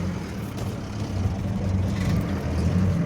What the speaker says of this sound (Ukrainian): Вже боксую колесо в воздусі.